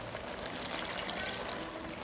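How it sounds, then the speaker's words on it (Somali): A quiet, continuous splash of water poured into a cooking pot while a meal of ceesh and fish is prepared, steady for about two seconds with no talking. "biyo yaraan ku dareynaa keeri biyo ah"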